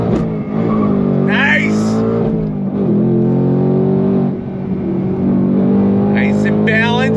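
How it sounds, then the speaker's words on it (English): A 2024 Ford Mustang Dark Horse V8 accelerates on throttle with a loud, sustained engine roar that rises in pitch, while a man exclaims over it. "Sound of that V8, nothing fake. On throttle, here we go, yeah!"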